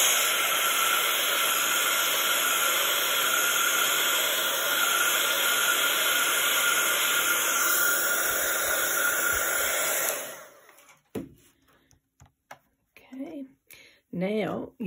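A hair dryer blows with a loud, steady whoosh for about ten seconds while drying a rubber stamp, then shuts off, followed by scattered quiet speech.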